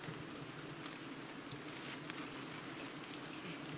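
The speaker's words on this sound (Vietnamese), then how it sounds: "Rồi cả nhà ơi, mưa tới luôn." Rain beginning to fall outdoors during a wild beehive hunt, a steady soft patter across the whole stretch with a few sharper drop ticks, fairly even and unbroken, with no voices.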